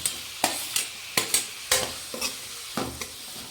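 Capsicum and tomato sautéing in a pan for capsicum gravy, with a soft sizzle broken by a series of sharp, regular spatula scrapes and knocks against the pan.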